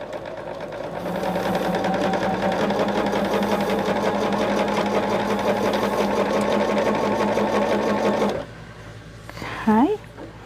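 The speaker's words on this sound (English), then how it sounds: "And then you start sewing your border on that side." A sewing machine runs steadily and fast, stitching a border onto a quilt, a loud continuous whir for about eight seconds before it stops; a short vocal sound follows near the end.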